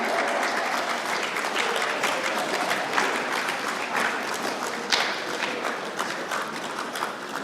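An audience at a Teachers' Day ceremony gives warm, sustained applause to welcome a seniors' choir to the stage, a dense, even patter of many hands clapping with occasional sharper claps, no talking.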